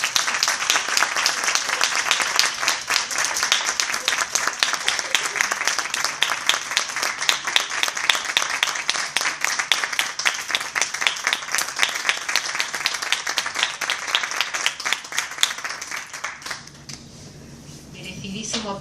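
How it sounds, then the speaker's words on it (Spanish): Sustained audience applause at a Spanish-language talk, dense steady clapping for about fifteen seconds before fading to a few scattered claps. "Merecidísimo aplauso"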